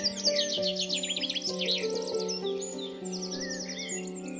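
Bright birdsong chirps and trills repeat over a steady musical backing in a French-language fairy-tale audio story, the tweets clear and prominent with no talking.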